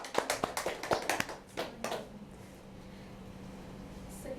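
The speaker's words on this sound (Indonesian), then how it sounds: "Berikan tepuk tangan untuk kelompok 1." A small group in a classroom gives brief scattered applause for a presenting group, a quick burst of claps that fades within two seconds into quiet room tone.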